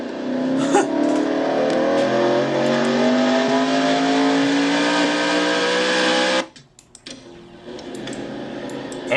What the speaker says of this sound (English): Russ Batson having trouble getting his car started